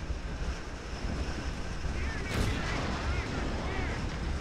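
Artillery fire in the tank game War Thunder, a dense, rumbling barrage under wind-like noise with a sharper blast midway.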